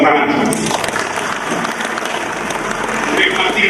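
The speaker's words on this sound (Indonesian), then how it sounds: "Insya Allah kita tepuk tangan." A room full of people clapping, a steady dense burst of applause lasting a few seconds.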